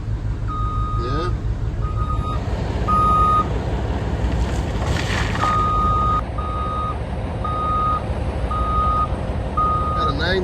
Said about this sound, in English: Got a 966M. It's a good loader right there.